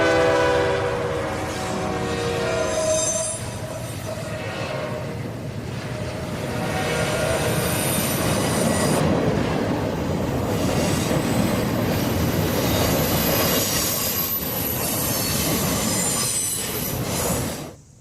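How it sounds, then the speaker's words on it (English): Intermodal freight train passing north on a curved track at Cornwall on Hudson, New York, a loud sustained rumble with high screeching wheel squeal throughout and a brief horn-like tone, fading at the end. "we watched an intermodal train head north through town"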